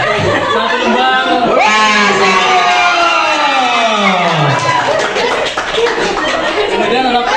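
Audience at a workers' seminar clapping and cheering, dense continuous applause with chatter and laughter layered over it, loud and close, while voices also rise through the crowd noise.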